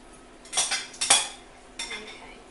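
Bacon strips dropped into a lightly oiled hot pan, a few sharp clattering bursts of metal contact followed by a brief hiss, close and clear.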